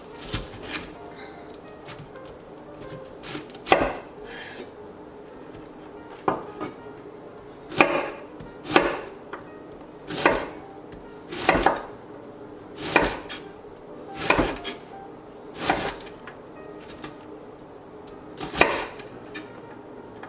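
A knife chops cabbage on a cutting board. The sharp knocks are close and loud and come in an uneven series of about a dozen, spaced a second or so apart, over faint kitchen background.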